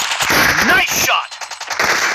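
Rapid automatic gunfire rattles loudly in the mobile battle royale game PUBG Mobile, forming a dense burst of close shots that pauses briefly and then resumes.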